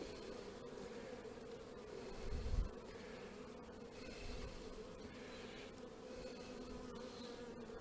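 Honeybees buzzing at an open hive during queen cell introduction work, a dense continuous hum swelling briefly with a low thump midway, no talk.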